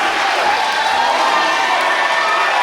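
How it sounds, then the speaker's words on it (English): A wrestling crowd at a Channing Thomas match roars continuously, a dense wash of cheering and clapping that stays loud and even throughout. "Listen to this crowd."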